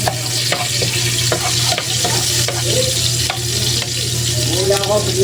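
Onion and garlic sauté in hot oil in a pan for chicken feet adobo, a loud, close, steady sizzle with regular scraping and stirring strokes throughout.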